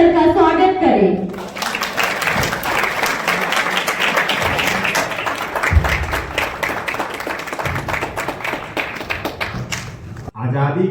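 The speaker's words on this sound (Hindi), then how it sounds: "जोरदार तालियों से सर का स्वागत करें" At a Netaji Subhas Chandra Bose Jayanti event at Uday Memorial B.Ed College, Ranchi, an audience breaks into loud, dense clapping after a brief spoken line. The applause is close and sustained for about nine seconds before stopping abruptly.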